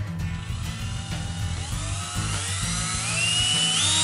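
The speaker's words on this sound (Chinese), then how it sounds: "无线电钻比较简单，只要装上电池，按下开关按钮就能转起来" A cordless electric drill runs freely with its motor whirring steadily and close, the whine climbing in pitch toward the end as the speed increases.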